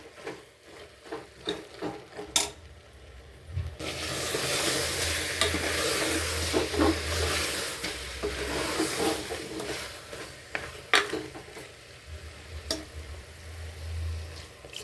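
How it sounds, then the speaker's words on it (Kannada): Mutton pieces fry and get stirred with masala in a pan for a Mandya-style mutton chops dish. A steady sizzle carries through, with frequent scraping and clanking stirring strokes close by and no talking. "ಮಸಾಲೆನ ಹಸಿ ವಾಸನೆ ಹೋಗೋವರೆಗೂ ಈ ಮಟನ್ ಜೊತೆನೇ ಉರಿರಿ"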